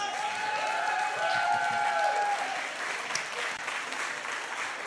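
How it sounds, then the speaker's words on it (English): An audience at an Arizona pickleball league match gives the winning team a full round of steady applause that gradually thins out, with a faint sustained tone ringing under it early on. "one more time, give them a round of applause."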